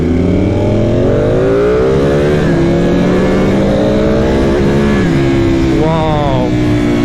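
A second-generation Suzuki Hayabusa motorcycle engine runs loud and close throughout, its pitch rising and falling as it accelerates and revs, with a sharper rising sweep near the end and no clear voices over it.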